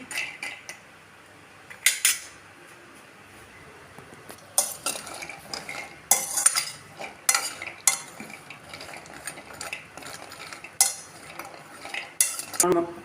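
Cashews roast in a pan while a utensil stirs them, making irregular bursts of scraping and clinking against the metal over a quiet background, with no voices.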